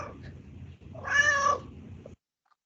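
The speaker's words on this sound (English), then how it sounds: "This is when the meow and the purr kind of combine." A cat gives a single drawn-out meow blended with a purr, a happy, close sound of about a second over a low rumbling purr that continues before and after.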